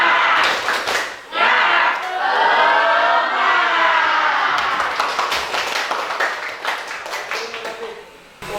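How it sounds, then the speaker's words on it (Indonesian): A roomful of students in class claps a rhythmic spirit cheer, loud and close, with dense patterned bursts of claps and voices shouting along in places. "Tepuk semangat."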